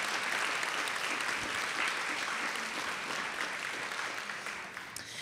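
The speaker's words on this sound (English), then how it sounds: "Let's give one more round of applause for our new NBCTs." An audience gives a round of applause for newly certified National Board teachers at a celebration, with steady, dense clapping throughout that slowly fades toward the end.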